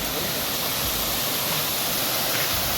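Water roars steadily over a dam at Junagadh, a dense, unbroken rush of loud close noise that holds even throughout with no break and no voices.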